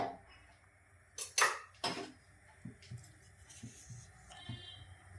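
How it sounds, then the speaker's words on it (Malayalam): A pan for sardines with coconut is set down on the stove, giving a couple of sharp metallic clatters followed by softer knocks and scrapes, close and moderately quiet. "നമുക്ക് സ്റ്റൗ ഓണാക്കി സ്റ്റവിലേക്ക് വെക്കാം"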